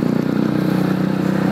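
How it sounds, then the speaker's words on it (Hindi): A motorcycle's exhaust note pulses in a loud, steady low-pitched rumble at close range, continuous without talk. "मीठा एग्जॉस्ट है, तो इसमें कानों को फाड़ता नहीं है ये एग्जॉस्ट"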